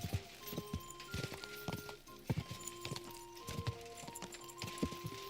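Horse hooves clip-clopping at a walk in Kingdom Come: Deliverance 2, a steady close rhythm of hoof strikes over a bed of game ambience and faint musical tones.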